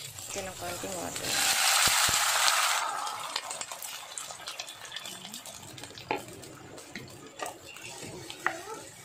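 Water pours into a hot frying pan holding garlic, onion and ginger, giving a loud rushing hiss for a couple of seconds that gives way to quieter bubbling and scattered clinks.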